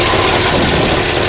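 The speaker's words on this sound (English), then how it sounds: "Now the noise you hear, there's a crazy big exhaust hole in the crossover pipe" Loud, rough engine roar close up from a 1958 Studebaker Commander with a big exhaust leak in the crossover pipe, a broad, steady hissing rumble with no pauses or voices.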